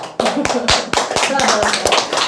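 A few people clap in a small indoor sales seminar, a handful of sharp claps at a loose, uneven rhythm with voices talking over them.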